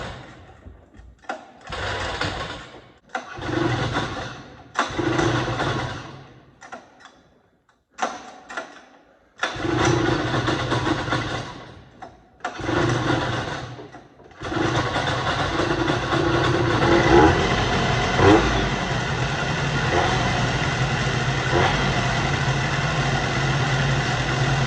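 A Ski Whiz snowmobile engine is cranked in repeated short bursts with brief pauses, then catches and runs continuously with a rough, steady two-stroke buzz, close by.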